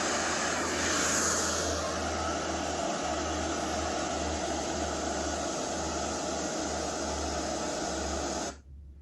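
Big Niagara Falls waterfall roaring as a steady, dense broadband wash that stays loud and unbroken for about eight seconds before cutting off abruptly near the end.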